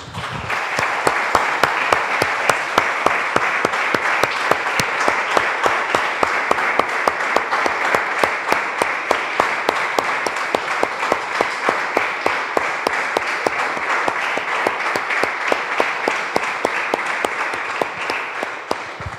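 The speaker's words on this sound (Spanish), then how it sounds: "Damos un aplauso, hermanos, al Señor" A church congregation applauds steadily and loudly for almost twenty seconds, a dense, even wash of clapping hands with no pause.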